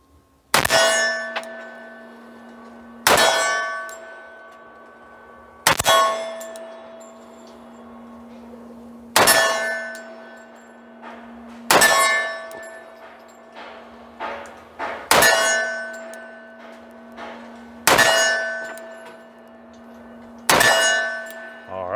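Savage 1911 pistol shots ringing off a steel crow target, a full magazine fired at 20 yards: eight loud metallic clangs at a steady pace of about one every two to three seconds, each hit leaving a sustained ringing tone that decays between shots.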